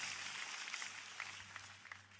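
A church congregation applauds during a sermon, giving a steady, continuous wash of clapping that stays fairly faint and distant throughout.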